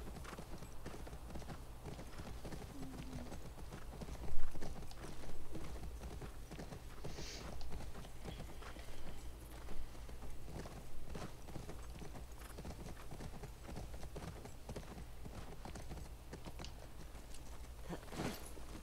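A horse in The Last of Us Part 2 video game clops along steadily, hooves striking in an even walking rhythm over a constant low ambient rumble, close and moderately loud.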